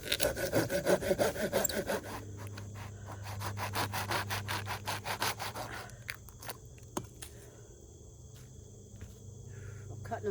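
Hand saw cutting through wet wood at a rainy campsite, small pieces for a campfire, with steady rhythmic back-and-forth rasping strokes up close, then slower, quieter strokes over a low background hum with a few knocks.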